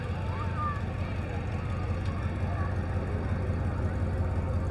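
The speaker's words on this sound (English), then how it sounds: "it sounds like a very modern V8 engine." A hot rod with an older body on a newer chassis and a modern V8 engine rumbles past during an evening Christmas parade, a steady low engine drone mixed with parade crowd noise.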